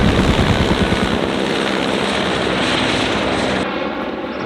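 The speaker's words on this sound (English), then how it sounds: "That means attack helicopter." A military attack helicopter passes overhead on a supermoto motorcycle tour, its loud, steady rotor chop filling the air and easing slightly toward the end.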